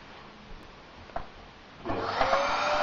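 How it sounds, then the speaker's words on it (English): A vacuum cleaner switches on partway through, rising to a loud, steady broadband whir that continues to the end after a quiet stretch with a few faint knocks. "stop licking the vacuum cleaner."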